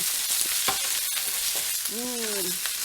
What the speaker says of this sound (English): When you heat up the oil, add the garlic.